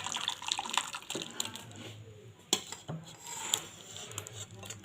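Cauliflower kofta curry finished with a little ghee is poured and scraped out of a cooking pan, giving close wet scraping and dripping sounds with a few sharper clinks, no talking.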